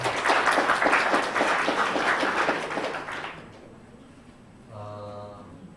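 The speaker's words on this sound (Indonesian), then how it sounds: "tepuk tangan dulu" Applause from an audience at a startup meetup, a dense wash of many hands clapping for about three seconds, then fading out before a short tonal hum near the end.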